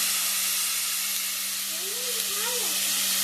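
Onion and tomato fry in a pan for a bottle gourd sambar, giving a steady close sizzle and hiss throughout with a faint stirring rustle and no talk.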